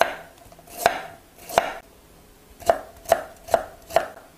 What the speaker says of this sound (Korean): 쫑쫑 썰어줄게요.